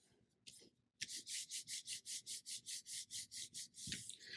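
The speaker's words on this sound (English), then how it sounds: "And then I'm just going to kind of rub this into place." A paper box tab being rubbed into place on a craft project, heard as a quick even series of about fourteen close, brisk rubbing strokes after a couple of initial scuffs.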